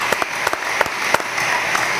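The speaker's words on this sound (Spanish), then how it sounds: "Vamos a dar un fuerte aplauso." Sparse clapping from an audience at a National Police event in Spanish, a handful of distinct claps scattered over two seconds rather than full applause, fairly close and standing alone without talk.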